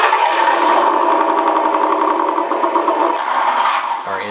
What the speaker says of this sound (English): our engine start